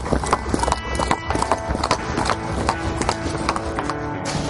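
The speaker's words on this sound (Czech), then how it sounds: "I před podkováním koně je třeba si koně předvéct," A horse led across hard ground before shoeing at a blacksmiths' event in Ctěnice, Czech Republic, hooves clip-clopping in a steady, close, loud rhythm against faint background noise.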